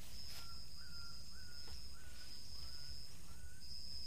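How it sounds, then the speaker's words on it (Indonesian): Faint bird calls carry overhead in a damp forest campsite, a short repeated note sounding about every half-second over low ambient hiss and a thin steady whine. "di atas kepalaku tuh aku mendengar itu bunyi-bunyi itu burung itu"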